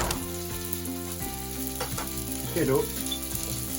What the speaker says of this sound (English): I'm going to dump in the butter with the sprouts